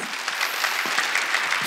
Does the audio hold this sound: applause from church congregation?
yes